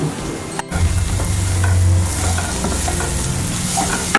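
A sprig of curry leaves hits a hot pan with a sharp burst, then sizzles steadily and loudly up close, with faint clinks of stirring.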